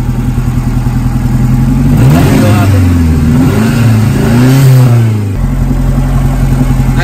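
A Toyota MR2 engine idles steadily, then revs up and down several times in the middle before settling back to a close, loud idle.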